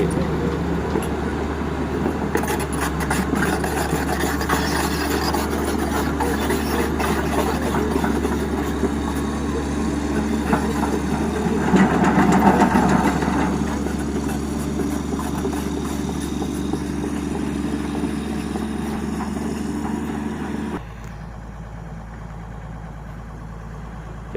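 An excavator engine runs at a dredging and land-filling site, a loud steady diesel drone with rattling mechanical texture that swells briefly midway, then cuts abruptly to quieter background near the end.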